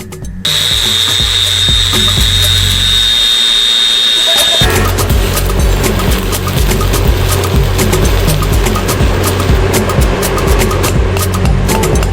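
A power grinder cuts away a bad weld on metal, up close and very loud. A high steady whine gives way after a few seconds to a harsher, rougher grinding roar that runs on without a break.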